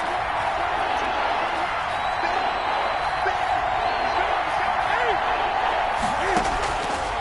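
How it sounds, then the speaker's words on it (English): A stadium football crowd roars and cheers steadily for its defense, a dense wall of loud noise with occasional whoops rising above it. "this crowd urging on their defense. They're up and making noise."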